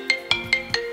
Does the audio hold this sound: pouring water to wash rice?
no